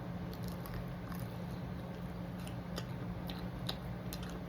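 Crunchy fried chicken wings are bitten and chewed close to the mouth, a run of soft, irregular crackling crunches over a steady low background hum, with no speech.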